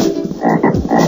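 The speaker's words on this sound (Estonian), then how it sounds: "Korraga kostus eemalt kellegi kilkeid ja krooksumist." A chorus of frogs croaks in overlapping, steady rasping calls from a distance after rain, continuous and fairly loud with no voices.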